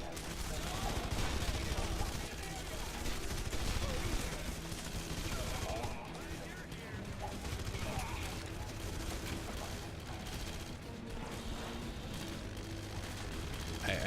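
Sustained gunfire from a Red Faction Guerrilla firefight rattles on for the whole stretch, dense bursts layered over game ambience with no spoken voices.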